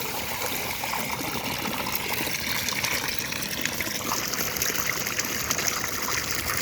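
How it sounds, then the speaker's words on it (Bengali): Water gushes steadily from a tube-well boring pipe driven by a homemade 12 volt pump, a full, rushing splash that stays close and constant with no voices over it. "দেখেন এই পাইপ ফুল হয়ে পানি বেরোচ্ছে"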